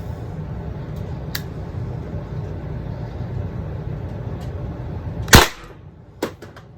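A Pepperball TCP air gun fires at a metal target, giving one sharp loud impact crack near the end, followed by a smaller knock, over steady low background noise.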